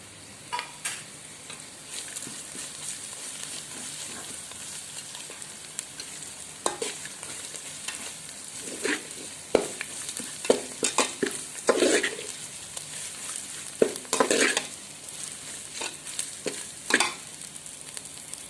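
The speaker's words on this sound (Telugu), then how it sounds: "వీటన్నింటినీ కూడా వేసి కొంచెం ఫ్రై చేద్దాం. జస్ట్ ఒక 2 మినిట్స్ ఫ్రై చేస్తే సరిపోతుంది." Whole spices frying in oil for veg biryani, stirred with a utensil: a steady low sizzle broken by scraping stirs and clatter that grow busier toward the end, no voices.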